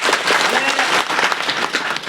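Villagers in Akoli applaud loudly and densely at the opening of a cricket ground, a close, continuous wash of clapping across the whole stretch, with a voice speaking over part of it.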